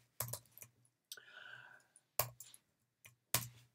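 Computer keyboard typing while a software test is written: short bursts of sharp, close clicks separated by brief pauses, with no one talking.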